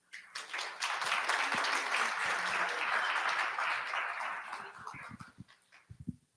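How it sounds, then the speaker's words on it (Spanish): A round of applause from an audience at a talk on COVID-19 in communities, swelling quickly, holding steady, then thinning into a few scattered claps near the end. "Adelante, un aplauso."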